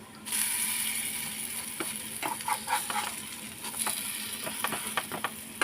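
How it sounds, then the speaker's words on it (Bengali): A homemade snack shallow-frying in a little oil in a pan, a steady soft sizzle broken by scattered crackles and pops as pieces are turned and pressed, close and fairly quiet, with no talking. "এইভাবে ভেজে দেবো আমি সবগুলো।"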